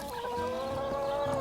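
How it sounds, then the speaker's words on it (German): Small flock of farm hens clucking close by, steady overlapping calls with a sustained tonal cackle throughout, no speech. "Eine kleine Schar Hühner ist es bislang."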